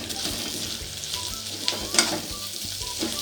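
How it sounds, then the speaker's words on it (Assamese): Dried fish frying in a pan gives a steady hiss and sizzle, broken by scraping stirs and small clinks of the utensil against the pan, close and continuous without talk. "এইখিনি মই অলপ সময় ভাজিব লাগিব যিহেতু মাছটো সিজিব লাগিব"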